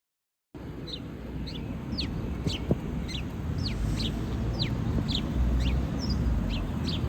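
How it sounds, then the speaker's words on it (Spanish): Repeated short chirping bird calls ring out over a steady low rumble of background noise, spaced fairly evenly throughout. "Escuchen el canto de los pájaros."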